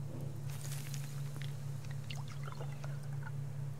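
Water poured out for chickens in the survival video game Subsistence, a soft, brief trickle and splash over a steady low hum, with no talking.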